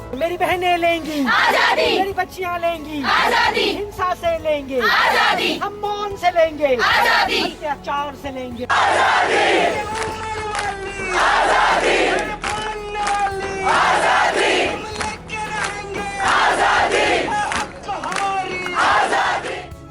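Protest crowd at an RG Kar demonstration chanting the Azadi slogan, a lead voice calling and many voices answering in a steady rhythmic call-and-response, loud and close throughout.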